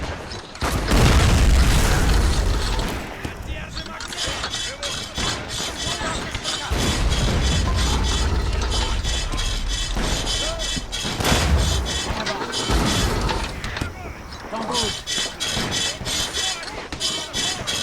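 Napoleonic war video game battle with deep artillery booms and crackling musket volleys rolling over a dense, continuous din, heavy thumps at the start and again midway, with a voice talking over the fighting.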